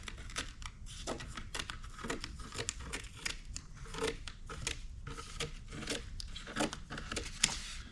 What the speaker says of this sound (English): So what I have is just some sharp scissors